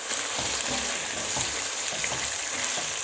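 Lamb liver fries in an open pot over medium heat, giving a steady dense sizzle with faint stirring scrapes and no voices.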